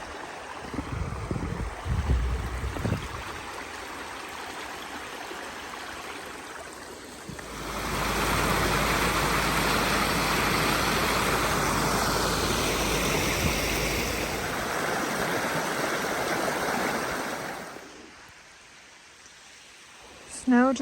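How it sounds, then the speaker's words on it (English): A winter creek in a snowy field runs steadily, its broad rushing wash swelling louder midway and then easing off. Light handling noise comes before it and there is no talk. "Here's the creek that I always show you guys."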